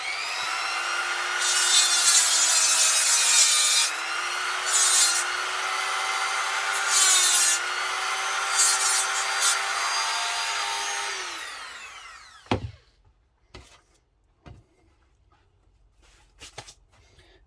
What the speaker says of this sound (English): Take Dremel, this may kill the audio on this.